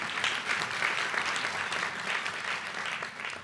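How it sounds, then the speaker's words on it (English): Steady applause from an audience at a bar association awards ceremony, honoring an award recipient; a dense, even wash of clapping held at moderate level throughout with no voices over it. "Let's give him a round of applause."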